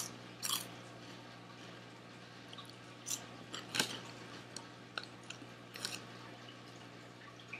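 A few sharp, crisp crunches at irregular intervals as someone eats Cheetos Baked Flamin' Hot snacks, fairly quiet against a low background hum.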